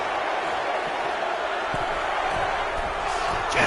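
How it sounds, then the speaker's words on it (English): A WWE 2K25 video game crowd at an Elimination Chamber event roars as a continuous, loud wash of cheering and noise, with occasional thuds from the ring beneath it. "The Dodo Universe cheering for Jessica Carr"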